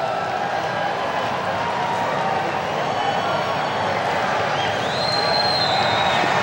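A football crowd at Aloha Stadium during a 1997 CSUN versus Hawaii game makes a continuous, dense roar of distant voices and cheering that holds steady throughout, with a faint whistle-like tone rising near the end.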